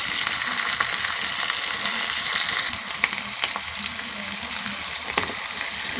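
Onions sauté in a pan with a dense, continuous sizzle, loudest at first and easing slightly later, with a few light clinks of stirring and no talking.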